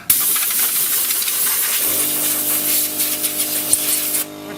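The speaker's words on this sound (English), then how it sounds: "I'll go ahead and give it a spritz of air." A leak-detection gadget, an Elitech ILD 300 infrared detector, gets a spritz of compressed air while tracing a leak in a Hyundai Elantra air-conditioning system: a loud, close, steady hiss lasting about four seconds, then a sudden stop.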